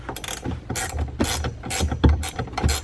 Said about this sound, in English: so I like to use a ratcheting wrench